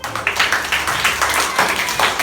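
Children clapping their hands together in a classroom, a quick rhythmic patter of many small claps running steadily for a couple of seconds.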